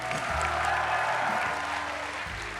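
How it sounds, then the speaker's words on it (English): An audience applauds steadily for a few seconds at a talk event with Giancarlo Esposito, broad clapping noise filling the space with a low hum beneath it. "Give it up for Giancarlo."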